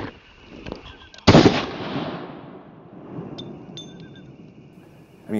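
A single close handgun shot fired at close distance during defensive shooting practice, a sharp loud crack followed by a decaying outdoor echo, with quieter background noise around it.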